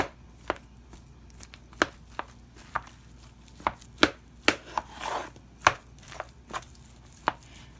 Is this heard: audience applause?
no